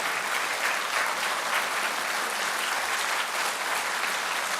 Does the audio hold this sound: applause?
yes